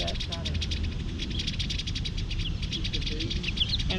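Purple martins chatter steadily around a backyard martin house, with busy overlapping chirps riding over constant rustling background noise.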